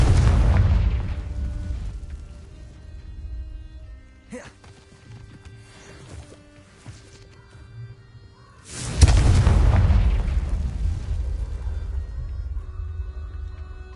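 Confringo fire spell blasts in the video game Hogwarts Legacy hit with two loud booming bursts, the first fading slowly and the second striking midway, with quieter rumbling and crackle in between.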